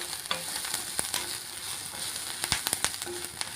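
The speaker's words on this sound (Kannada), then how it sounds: "ಈಗ ಲವಂಗ, ಚಕ್ಕೆ, ಮೆಣಸು, ಹುರ್ಗಡ್ಲೆ, ಶುಂಠಿ, ಬೆಳ್ಳುಳ್ಳಿ ಇದನ್ನು ಒಂದು ಫ್ರೈ ಮಾಡ್ಕೊಳ್ಳಿ" Cloves, cinnamon, pepper, roasted gram, ginger and garlic fry in a hot pan for horse gram curry, a close, steady sizzle broken by sharp scrapes and clicks from stirring, with no voices.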